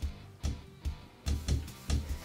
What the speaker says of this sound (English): the mat hitting the soccer ball.